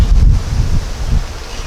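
Wind gusts roar across the microphone outdoors beside an open beehive during an inspection, a loud low buffeting that rises and falls over a couple of seconds.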